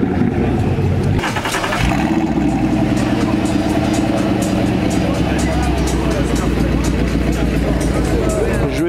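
A Corvette C7 Targa at a car meet starts up and revs, a loud close engine roar with a sharp crank near the start, then a steady rumble under crowd chatter and someone speaking.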